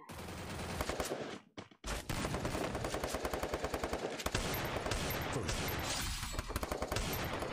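Rapid bursts of automatic gunfire from the Free Fire battle game ring out loud and close, dense repeated shots with a brief pause early on, then sustained firing throughout.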